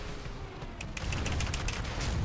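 Gunfire from an AMX M4 tank in the War Thunder video game plays as a quick cluster of sharp blasts over a loud, rumbling battle background.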